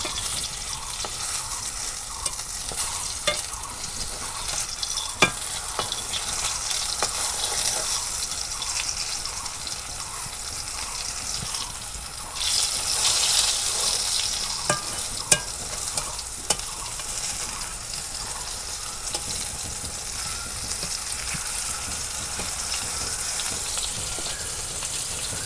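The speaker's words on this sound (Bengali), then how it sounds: "এই দেখো বেগুনের চপ কি সুন্দর করে ভাজতেছি" Eggplant chops frying in oil, a continuous bright sizzle and crackle that holds steady throughout, with occasional sharper pops and utensil clicks, close up and without talk.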